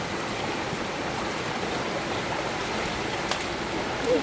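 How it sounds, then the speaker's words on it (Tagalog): A strong river current rushes and roars continuously during sudden flooding, a dense, loud wash of water close by with a brief splash near the end and no clear speech. "Bakit tabi ang lakas na ng agos?"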